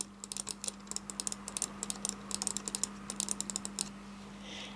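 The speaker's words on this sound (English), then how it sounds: "So I'm going to do my standard right and left click first." Clicks from a Cherry DW 9100 Slim mouse, with right and left buttons pressed in quick irregular bursts of sharp, close ticks over a faint steady hum.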